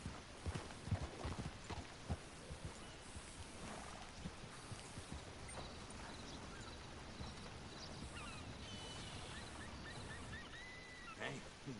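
Horse hooves clip-clopping in the video game Red Dead Redemption 2, near a stable, a steady walking rhythm of soft thuds with faint ambient background throughout.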